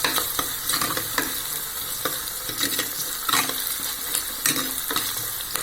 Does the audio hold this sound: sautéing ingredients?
yes